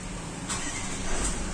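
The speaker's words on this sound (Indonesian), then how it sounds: "tekan engine starter baru kita nyalakan" A Toyota Land Cruiser VX-R J200 diesel engine runs steadily and fairly loud with a dense broadband rumble, with two brief hissy bursts partway through and no talking.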